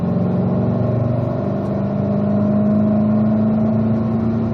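Car accelerating up to speed on a race track, its mid-pitched engine droning loud and steady with a rising tone throughout, close to the microphone, with no talking.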